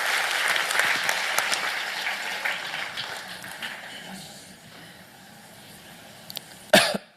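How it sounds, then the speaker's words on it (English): A man coughs and clears his throat during a live online psychic reading session, brief rough bursts near the end after a stretch of muffled background noise, close and fairly loud. "I'm sorry, just coughing."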